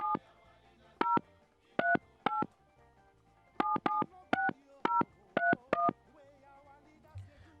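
Touch-tone phone keypad dialing a call, eleven or so short beeping tones in quick uneven bursts, clear and close, with a faint hum beneath and no talk.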